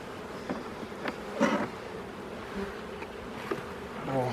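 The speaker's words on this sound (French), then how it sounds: "Pas mal de jeunes abeilles." Honeybees hum and buzz around an open hive during a spring inspection, a steady close swarm drone with individual bees passing near the listener in brief louder swells.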